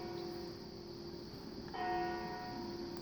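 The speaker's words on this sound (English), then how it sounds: "I liked how when you put it on the ground, the church bell actually rings." A church bell in the Trainz Railroad Simulator 2004 video game sounds once as a moderate tone over a steady electronic hum, ringing on for about a second before fading back into the background.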